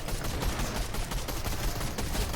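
Gunfire in the video game Fortnite, a rapid, dense burst of shots crackling continuously for a couple of seconds at moderate volume, with no talking.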